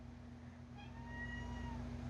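A cat meows once, faint and drawn out, over a steady low hum in an indoor room while someone works on a diamond painting.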